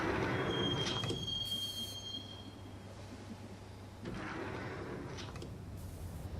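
A subway train in the Max Payne video game rolls through Roscoe Street Station with a low rumble, a piercing wheel squeal, and surges of clatter as cars pass, fairly close and without any talk.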